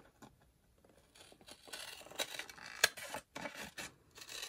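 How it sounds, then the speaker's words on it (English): Scissors slitting and trimming a cardboard toilet roll core at close range, a few quiet crisp snips and rustles of card with a sharper cut near the middle. "Gotta love these scissors, it's just like one action."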